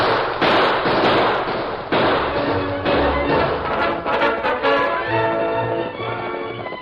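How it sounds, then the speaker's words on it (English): Sharp gunshots ring out during a radio-drama chase, with several loud cracks in quick succession over busy sound effects and music that carry on throughout. "Let me shoot wild, Kimasabi."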